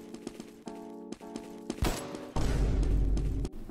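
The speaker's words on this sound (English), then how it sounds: "it's a kill sound effect." Video game kill sound effect from a no-scope arcade shooter, a short sharp burst followed by a sustained noisy blast, heard clearly over faint background game audio.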